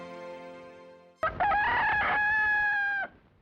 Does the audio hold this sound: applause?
no